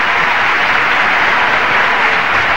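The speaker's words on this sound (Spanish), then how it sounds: "el público, los espectadores del Molinón se levantan para darle una ovación" A stadium crowd at El Molinón gives a standing ovation during a 1993-94 tribute friendly between Sporting Gijón and a La Liga selection, a loud, even roar of clapping that fills the whole stretch.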